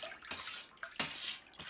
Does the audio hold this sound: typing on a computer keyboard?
no